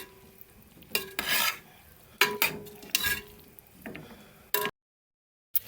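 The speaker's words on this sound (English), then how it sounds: "Stirring it up." Stirring seasoned chicken and rice in a pot, with bursts of scraping and rasping from a spoon against the pot bottom, coming in short irregular strokes separated by brief pauses.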